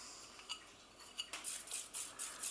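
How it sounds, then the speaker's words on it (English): A spoon stirring spices into a vegan lasagne sauce in a pot, giving soft scraping and a few light clinks, then denser swishing strokes, close but quiet. "Give that a good stir."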